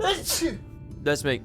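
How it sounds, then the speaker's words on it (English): A single sharp sneeze bursts out close to the microphone during a Final Fantasy XIV play session, followed by a brief pause and then someone speaking. "I'm gonna sneeze."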